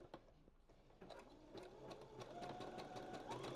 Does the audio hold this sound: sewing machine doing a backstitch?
yes